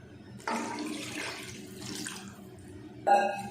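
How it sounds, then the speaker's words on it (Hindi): Water pouring into a cooking pot for boiling broken rice, a steady splashing rush starting after a brief pause and running to the end, with a louder gush near the close. "उसी हिसाब से मैं इसमें पानी डाल रही हूँ।"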